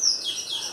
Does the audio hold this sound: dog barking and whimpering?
no